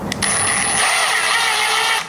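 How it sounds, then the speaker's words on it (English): A screw is driven into a hinge on a thrifted wooden piano bench, giving one short continuous mechanical whir with a high whine, close and alone. "while I get a couple of screws in"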